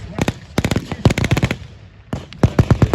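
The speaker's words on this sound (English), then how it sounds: "Now you hear that firing." Rapid bursts of blank gunfire crack out at a WW2 battle reenactment at Tankfest 2024, loud and fairly close, in quick strings of shots with short pauses between volleys.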